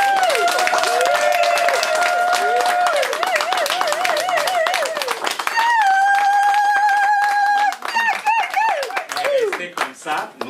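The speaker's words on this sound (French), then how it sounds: "Voilà, on peut applaudir." Guests applauding at a Congolese religious wedding ceremony: dense clapping runs throughout, nearly covered by loud sustained singing or ululating voices, and thins out toward the end.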